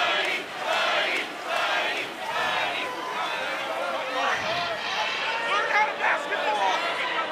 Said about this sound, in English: a rowdy crowd on hand here at Exact-Tech Arena